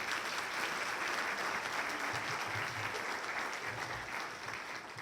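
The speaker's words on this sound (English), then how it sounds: "a round of applause for our 3 party leaders" Audience at a 2015 Newfoundland and Labrador provincial leaders' debate applauding the three party leaders, a sustained wash of many hands clapping from a crowded hall, steady and full, tapering slightly near the end.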